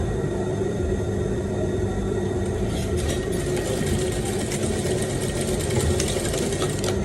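A sewing machine runs steadily and loudly throughout, stitching down a welt pocket flap along a notch, with a constant motor hum and needle clatter and no pauses.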